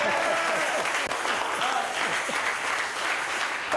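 Audience applause acclaiming the Lord at a church gathering: steady, dense clapping from a crowd, loud and sustained throughout with no pause.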